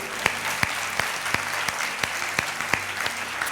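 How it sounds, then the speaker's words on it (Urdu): A church congregation claps during an Urdu-language sermon, a steady, dense applause with sharp individual claps standing out at a regular pace throughout. "کلام کے لیے تالیاں بجائیں گے"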